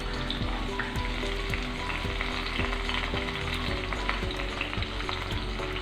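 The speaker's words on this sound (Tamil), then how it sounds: "2 பெரிய வெங்காயம், மீடியம் சைஸ் வெங்காயம் கட் பண்ணி வச்சுருக்கேன், அதை சேர்த்துக்கிறேன்" Onions and curry leaves fry in hot oil in a pan for a prawn and brinjal kurma, a dense, steady crackling sizzle that stays loud and even throughout, with no voices.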